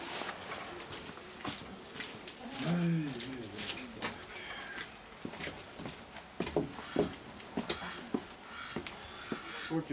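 Nikolaev pigeons coo in a loft on a wet, windy day, a few soft rolling coos mid-clip among scattered wing flutters, taps and handling noises nearby.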